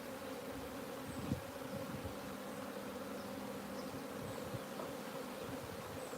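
Honey bees hum steadily around an opened hive frame of capped brood, larvae and drones, a dense, even buzz that stays close and continuous with no voices.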